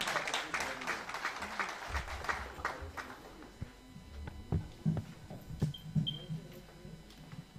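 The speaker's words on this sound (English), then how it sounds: "A round of applause for him" A university audience applauds, steady clapping mixed with crowd murmur and some speech, with a few louder claps and knocks near the end.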